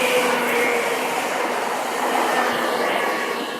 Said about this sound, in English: ooh, train is coming. It's gonna be loud.